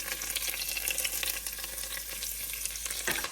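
Curry leaves and bay leaves sizzle in hot oil for a lamb curry, a steady close crackle with spitting pops that runs on and cuts off near the end.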